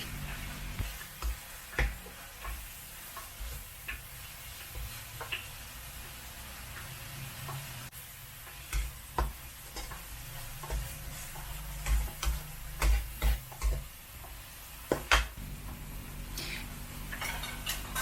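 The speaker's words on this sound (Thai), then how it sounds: "สุดท้ายเราใส่ต้นหอมนะคะ แล้วเราก็ผัดให้ผักเราสลดนะคะ" Vegetables and spring onions being stir-fried in a pan for a stir-fried dill with minced pork dish, with a steady low sizzle and repeated scraping, tapping strokes of a spatula against the pan, fairly close and without talk.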